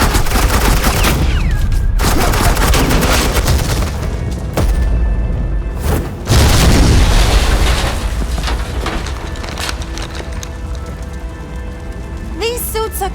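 Sustained bursts of suppressing gunfire in Batman: The Enemy Within, loud and dense across the whole stretch, with booming shots and a brief lull near the middle.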